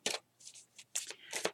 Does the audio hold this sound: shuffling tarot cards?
yes